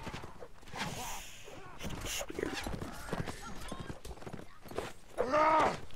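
Horse hooves clip-clop in the medieval combat game Mount and Blade Warband, irregular close thuds with a whinny near the end, while someone talks over the gameplay.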